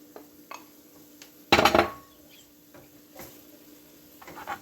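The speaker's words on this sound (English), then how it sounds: "So now I'm going to add the mushrooms." Mushrooms for lasagna tumble into a pan of rosemary-infused olive oil with one sharp, loud clatter and sizzle, among quiet clicks and light kitchen taps.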